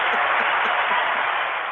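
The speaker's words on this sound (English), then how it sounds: "Give her a round of applause." An audience claps together at a live talk event, a dense, steady wash of applause that continues for the full short moment without pause.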